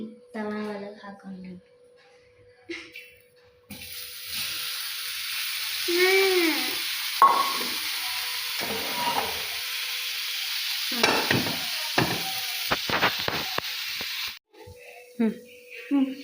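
Bitter gourd (hagalkai) frying on a tawa, a steady close hiss and sizzle with stirring scrapes and clatter, with speech before and after.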